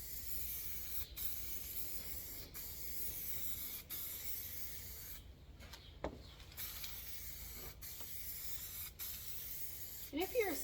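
Minwax sanding sealer sprayed onto MDF gives a steady, wide hiss running almost unbroken, with brief pauses between passes and a short clatter near the end.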